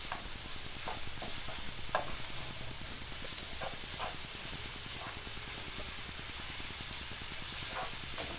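Chorizo and eggs cooking together in a pan, a constant hissing sizzle with a fine crackling rhythm and occasional light stirring taps, steady and close with no voices.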